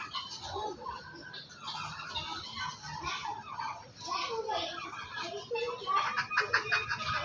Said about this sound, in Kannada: ವಿಧ ವಿಧವಾದ ಜಾತಿಗಳ ಕೋಳಿಗಳು ನೋಡಿ.